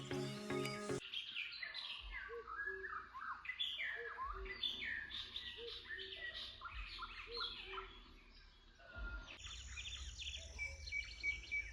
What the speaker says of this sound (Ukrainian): послухаємо співання пташок